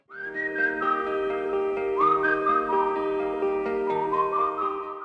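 A pop melody whistled by a single clear, bright whistle, steady and continuous with gliding notes over backing music.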